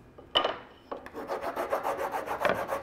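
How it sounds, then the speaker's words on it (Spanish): Steady back-and-forth scraping of sandpaper on recycled wood for a table, a few slow strokes at first and then a quick rhythmic rasping, close and fairly quiet. "si me ayudas ahorita a lijarlo"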